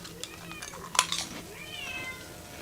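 A pet cat gives a short meow amid faint clinking of dishes or cutlery in a quiet indoor room, close but soft.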